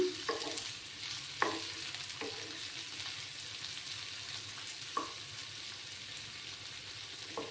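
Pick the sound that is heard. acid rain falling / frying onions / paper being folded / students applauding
frying onions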